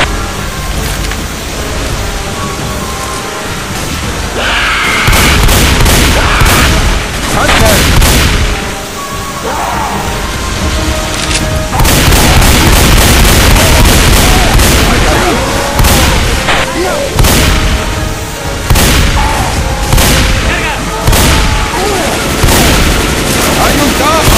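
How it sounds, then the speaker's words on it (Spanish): Bursts of rapid submachine-gun fire with booming blasts, loud and dense throughout, over a constant soundscape from the video game Left 4 Dead 2, with occasional voices. "disparo"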